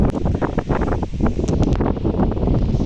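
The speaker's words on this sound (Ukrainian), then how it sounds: "супер вітряно, але класна погодка" Steady, heavy wind buffets the microphone throughout in a park with trees, a constant low roar with gusty rustling and no clear voices.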